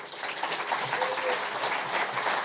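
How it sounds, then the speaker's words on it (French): Crowd at the opening ceremony of a film festival in Brive applauds festival organizers, a steady, fairly close burst of clapping lasting the whole short stretch. "je vous demande de les applaudir"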